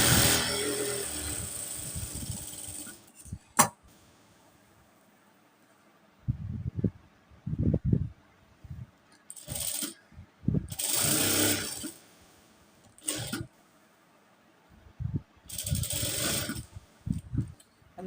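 A sewing machine stitching a band on a blouse, running in short mechanical bursts with quiet pauses between them, close and moderately loud.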